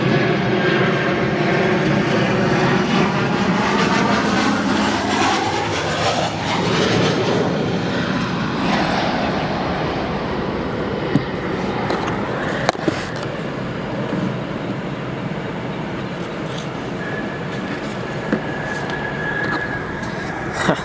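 An American Airlines airliner at O'Hare airport roars loudly with a sweeping jet engine tone that shifts in pitch as it passes, then settles into a sustained rumble.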